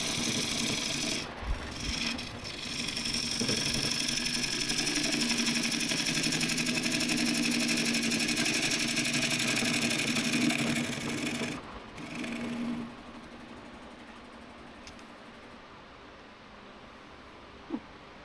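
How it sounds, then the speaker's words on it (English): A wood lathe running at full speed while a gouge hollows a sycamore bowl, a steady loud whir and cutting rasp that drops sharply near the end as the tool lifts off, leaving a quieter hum. "I love hollowing bowls and seeing the big ribbons fly"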